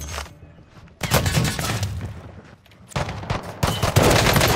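Bursts of automatic gunfire in Call of Duty Warzone, dense crackling volleys that drop off around the one-second mark and then come back loud and sustained after a quiet lull, close and continuous with no talk.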